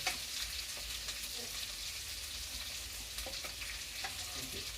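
Onions frying in a pan for semiya upma, a dense close sizzle with light crackles and occasional stirring scrapes throughout, no speech.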